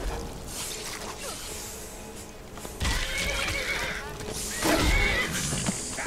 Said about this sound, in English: I think I hit the horse.